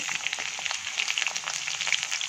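Tempering spices and chopped green chillies frying in hot oil for aloo bonda, giving a steady, close crackling sizzle with scattered pops throughout, no voices.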